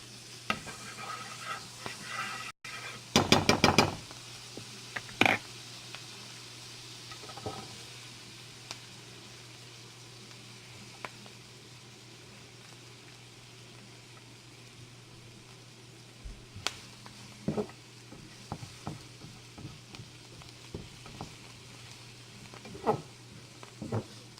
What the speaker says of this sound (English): I'm just going to cook these up until they're nice and tender